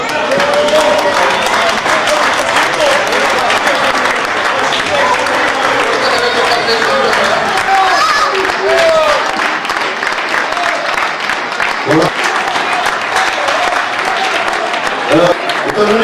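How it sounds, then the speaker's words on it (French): Club dinner audience in Florensac applauding steadily with continuous clapping, while voices and chatter mix in over the noise throughout. "On peut applaudir encore à Stéphane et à Jean."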